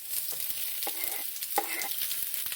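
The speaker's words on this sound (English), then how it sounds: "make sure it's really hot so you can hear the sizzling" Onion and kidney sizzling steadily in a very hot pan, a constant crackling hiss with a few soft scraping stirs.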